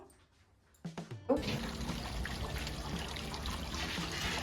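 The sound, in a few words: water trickling from a small decorative waterfall fountain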